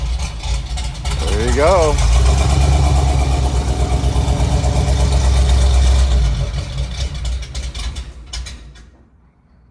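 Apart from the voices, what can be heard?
1979 Jeep CJ-5 engine starting and idling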